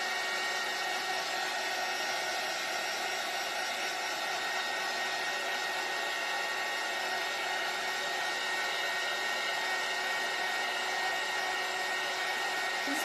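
A hair dryer blows over freshly painted craft paint on a sunflower gnome door hanger, giving a steady, close whooshing hiss that holds unchanged from start to finish.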